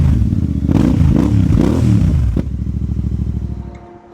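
A Royal Enfield motorcycle fitted with AEW exhaust canisters, baffles removed, revs loudly nearby with a deep throaty bark that rises and falls, then settles into a lumpy idle that fades.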